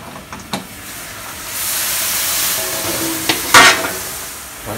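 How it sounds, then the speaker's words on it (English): Steam hisses steadily from a wok of boiling water steaming an egg tofu mixture, a broad airy rush that swells midway, with a few brief clinks and a louder burst near the end. "In a pot of boiling water or wok of boiling water, we will steam the egg mixture."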